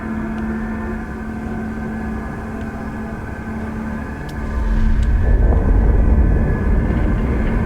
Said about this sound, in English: Starting helium-free thrusters